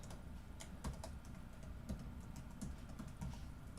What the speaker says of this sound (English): It's very weird typing on my laptop versus typing on my desktop